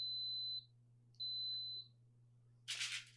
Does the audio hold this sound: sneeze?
no